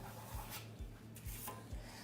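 A trowel spreads a thin coat of putty across a drywall wall on a construction site, making a steady rasping scrape with repeated strokes about every half second, close and alone.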